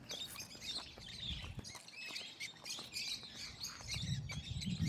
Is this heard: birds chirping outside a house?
yes